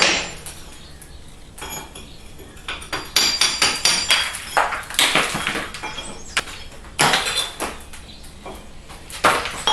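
Plaster chipped off a cracked wall with hand tools, a series of sharp irregular knocks and scraping taps close by, some hits louder than others, with crumbling debris between strikes.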